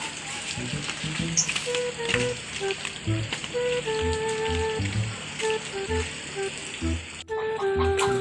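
Food sizzling and frying in a pan in a home kitchen, a steady crackling hiss running throughout with voices and household sounds mixed in.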